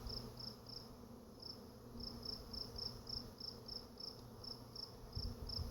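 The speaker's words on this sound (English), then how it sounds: "And it looks like they might just be honeybees." A swarm of honeybees forming a new hive buzzes in a steady, faint hum, with a repeating high insect chirp pulsing over the background and no talk.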